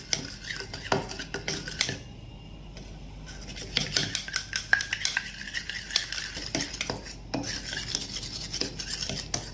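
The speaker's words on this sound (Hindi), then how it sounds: "आपको इन सारी चीजों को अच्छे से मिक्स करना है" A spoon mixes coconut oil face paste in a bowl, producing repeated clinking and scraping strokes in an irregular rhythm, close and moderately loud, with a brief quieter pause partway through.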